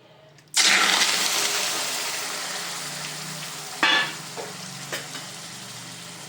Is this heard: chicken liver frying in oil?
yes